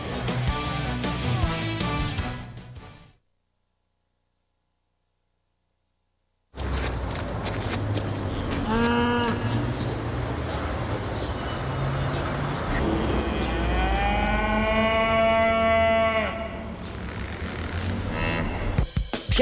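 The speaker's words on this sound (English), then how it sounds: "Cows are going to extremes to get you to eat more chicken." Cows moo in a broadcast fast-food chicken commercial, drawn-out lowing calls rising and falling over a busy background after a brief silent gap, with other voices and noise underneath.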